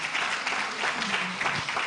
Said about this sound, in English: Are you clapping your hands,